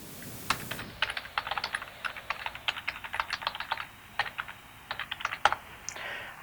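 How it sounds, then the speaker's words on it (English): An email address is typed on a computer keyboard, close up, as a steady run of light, quick key clicks with small pauses between groups of keystrokes. "I typed out my email address on the top line."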